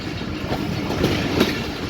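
The Rehaman Baba Express passenger train rolls through Golra railway station, a steady rumble and rattle of wagons with a couple of brief clanks, close and continuous with no voices.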